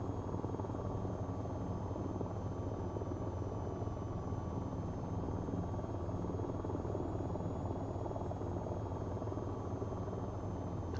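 A helicopter flies in the VTOL VR flight game, its rotor making a steady, continuous droning whir at an even loudness with no voices over it.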